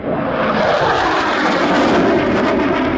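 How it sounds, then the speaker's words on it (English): A Hornet fighter jet flies loaded high-alpha turns and rolls at the Wings Over Illawarra 2021 airshow, a loud, continuous engine roar dominating the whole stretch at close range. "You're seeing a great demonstration here of the high alpha capabilities of the Hornet."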